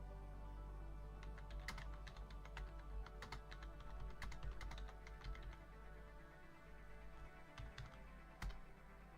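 Keys clack on a computer keyboard as a Minecraft factions chat command is typed, a quick burst of close, crisp clicks followed by a pause and one last tap, quiet overall.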